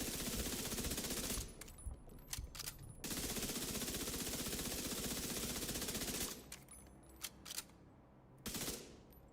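Rapid automatic gunfire in a video game, sustained loud bursts of fast shots separated by short pauses and scattered single shots, close and dense.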